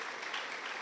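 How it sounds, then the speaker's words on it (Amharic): Church congregation clapping loudly and continuously during a sermon, a dense, steady burst of applause close by with no clear voice over it. "እስኪ ልልታና ጭብጨባ ስጡት ለጌታ"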